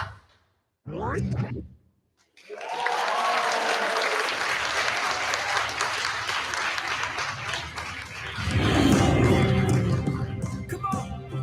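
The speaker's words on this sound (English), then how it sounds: "And everybody clap your hands." A crowd claps hands together in a loud, sustained burst of applause lasting several seconds, with a brief swell near the end and faint voices mixed in.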